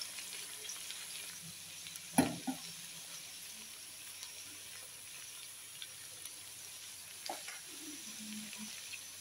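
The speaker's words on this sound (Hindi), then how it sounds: "अब मैं इसको मिक्स करती हूँ।" Okra and potatoes fry in a pan and are mixed in, giving a faint, steady sizzle with a couple of sharp utensil knocks against the pan, fairly quiet throughout.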